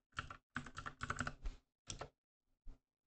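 Keystrokes on a computer keyboard as a console command is typed: several quick bursts of clicks close up, then a pause, a short run, and one last lone tap.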